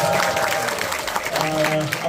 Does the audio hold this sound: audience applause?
yes